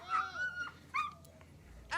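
Excited dog giving high whimpers and chirp-like yips, several short bursts with gaps between, fairly close.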